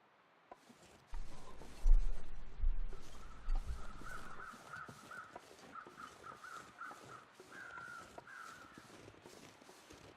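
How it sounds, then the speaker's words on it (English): Crows in a snowy forest in the survival game The Long Dark give a run of caws at a middle distance, repeated in an uneven rhythm over rustling footsteps and a soft background hiss. "These crows are not far ahead of us."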